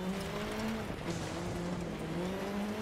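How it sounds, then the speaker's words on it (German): An Audi rally car engine in the Dirt Rally 2.0 racing game, held on the rev limiter with a steady buzzing drone that wavers slightly in pitch, accompanied by constant tyre and road noise, fairly quiet and without speech. "Der Audi hier, der hört sich übrigens auch im Begrenzer sehr"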